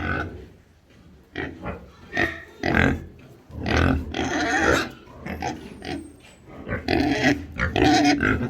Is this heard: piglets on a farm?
yes